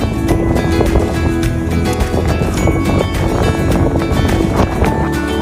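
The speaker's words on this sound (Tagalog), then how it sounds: "Sadyang napakalakas ho ng hangin talaga" Strong, steady wind buffets the microphone on the high ground at Devín Castle in Bratislava, Slovakia, a loud continuous roar with rumbling gusts and no talking.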